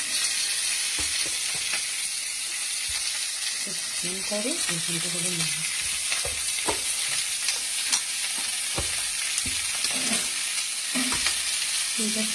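Curry leaves and chopped onions fry in hot oil with a steady sizzle while a spoon stirs through them in scraping strokes, and a voice talks quietly underneath.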